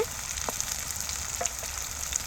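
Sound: bitter gourd frying in a pan

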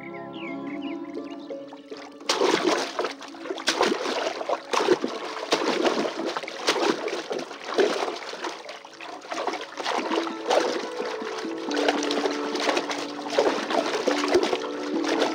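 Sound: splashing and playing in water

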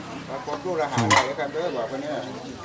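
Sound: dry-roasting fish in a pan for laab

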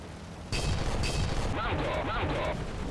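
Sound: tank gunfire in a video game

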